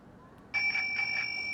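An electric bike's bell set to maximum volume chimes electronically, a bright sustained ring pulsing several times in quick succession after a quiet start.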